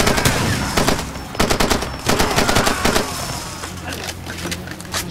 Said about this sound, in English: Stop shooting me with that shotgun